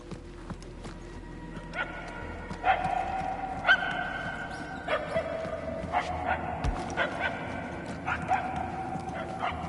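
A dog barks repeatedly in the distance, a long run of sharp harmonic barks coming in clustered bursts over a steady low background rumble, heard from far off and never close.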